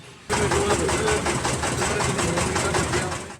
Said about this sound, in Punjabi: ਬਾਈਕ ਰਹਿਣਗੇ ਐਕਟਿਵਾ ਤੇ ਚੱਲਦੇ ਆ